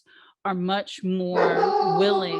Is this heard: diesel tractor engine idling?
no